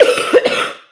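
A person coughs several times in quick, harsh bursts, close and loud, then it trails off into silence.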